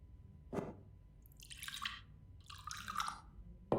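Gin poured into a glass in the Backbone video game, heard as a short liquid drip or splash followed by two bursts of brighter pouring and trickling, close and fairly quiet, with no talk over it.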